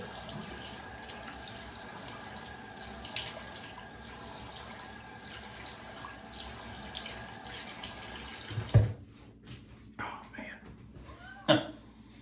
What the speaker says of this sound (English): I'm gonna go ahead and wash off my face here with some cold water